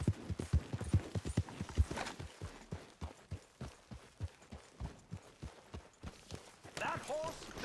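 Hooves of a horse clip-clopping in a steady walking rhythm, close and fairly quiet, with a brief burst of other noise near the end.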